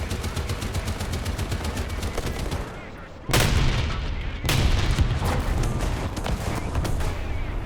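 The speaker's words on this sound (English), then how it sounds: "So I was just trying to scare him off with machine gun fire." Rapid bursts of tank machine gun fire in the video game War Thunder, loud and rattling, with a brief lull before heavier sustained volleys resume.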